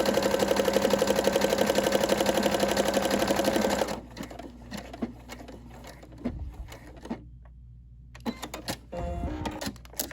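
A sewing machine stitches a buttonhole on a jean dress, a rapid, close, mechanical whirring chatter for about four seconds, followed by quieter clicks and handling sounds.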